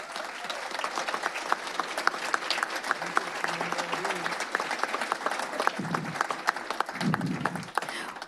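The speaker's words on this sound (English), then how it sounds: "Let's give everyone a warm round of applause." A warm round of applause fills a school board meeting room, many people clapping steadily and evenly for several seconds, with a few voices murmuring beneath the claps.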